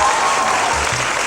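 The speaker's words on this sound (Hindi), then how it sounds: "मनान के लिए बहुत सारी तालियां।" A studio audience on a morning show greets guest Manan with dense, steady applause, close and loud for the whole stretch, with light crowd noise mixed in.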